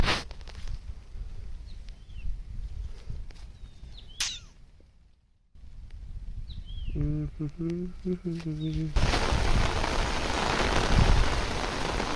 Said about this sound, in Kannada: ಮತ್ತೆ ಹೆಚ್ಚಿಗಾಯ್ತು ಗಾಯ್ಸ್ ಮಳಿ